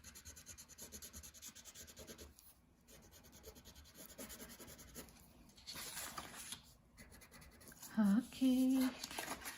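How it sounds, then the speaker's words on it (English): Brown crayon rubbing and scratching across paper while coloring a basket drawing, soft close strokes in uneven bursts with short pauses. "Now I need to color the basket."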